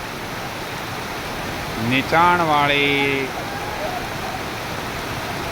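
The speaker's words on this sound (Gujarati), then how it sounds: "લાખણી પંથકમાં ધોધમાર વરસાદ" Heavy rain pours in the Lakhani area, a dense, steady wash of noise throughout, and someone speaks briefly over it midway.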